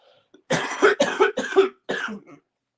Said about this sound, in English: hold on a second, I got a cough